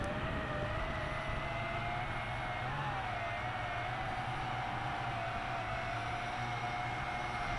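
WLToys Q212G altitude-hold FPV quadcopter drone flying with throttle reduced, a steady whining rotor drone with a faint high tone, continuous and fairly loud throughout without talk.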